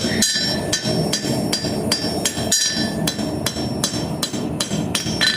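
A blacksmith hammers a nail on a fresh anvil, sharp ringing metallic strikes landing in a steady, fairly fast rhythm, close and loud with no voices.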